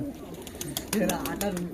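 Giribaz pigeons coo briefly at close range, soft low calls mixed with someone talking over them.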